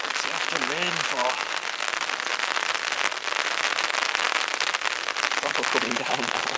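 Heavy rain pours steadily at a big lake during bream feeder fishing, a dense, loud, continuous hiss with crackling drops, and a voice briefly heard under it.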